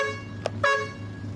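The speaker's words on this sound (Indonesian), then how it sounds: "Dari sistem klakson sudah aman" A bus horn sounds during a safety check, two short honks close by with a brief gap between them, over a steady low engine idle.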